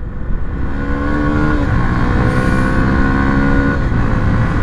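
A Honda CBF 125 motorcycle hums steadily while riding, its engine note rising and shifting under continuous wind noise, loud and close throughout.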